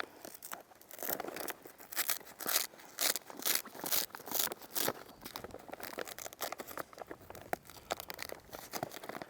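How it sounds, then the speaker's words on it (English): Velcro is ripped apart and a zipper opened on a wing-surfer wing to reach its bladder, a close, quiet series of short tearing and crinkling bursts with no voices. "I'm going to take off the Velcro and go ahead and open up that zipper."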